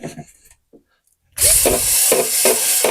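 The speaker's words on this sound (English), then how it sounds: "Let's try using the drill" A power drill fitted with a scrubbing attachment works inside a Mercedes Sprinter van, starting abruptly after quiet handling noises and whirring loudly against the surface with rhythmic scraping pulses.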